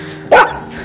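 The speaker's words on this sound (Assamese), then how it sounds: "ই দেখাত ডাঙৰ হ'ব পাৰে এগ্ৰেছিভ নিচিনা দেখিব পাৰে কিন্তু অলপ এগ্ৰেছিভ নাই বহুত ফ্ৰেণ্ডলি হয় কুকুৰটো" A large, friendly dog gives a single loud, close bark that ends quickly, with nothing else around it.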